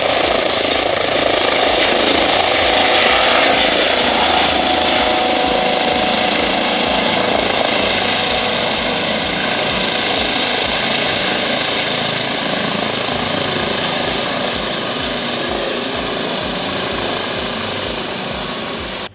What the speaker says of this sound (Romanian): Ulterior, la locul accidentului, au mai ajuns un elicopter SMURD